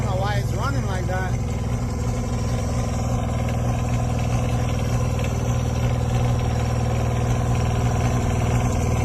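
A combustion engine fitted into a Tesla car runs steadily with a turbo, a continuous loud mid-pitched idle drone lasting throughout, with a brief higher whine near the start.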